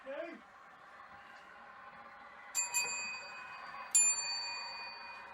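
On an 00 gauge model railway layout, a small bell gives two bright, ringing dings a little over a second apart, fairly faint and close, against a quiet room hum after a brief voice.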